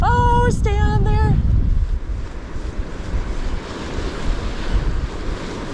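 Big surf waves roll and crash steadily on a Florida Panhandle beach in winter, with a broad wash of surf and wind, after a short high-pitched electronic beeping at the start.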